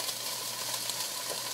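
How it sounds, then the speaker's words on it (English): Kale frying in oil gives a steady, even hiss and crackle that never lets up, at moderate volume with no talking. "just start it cooking like this in the oil"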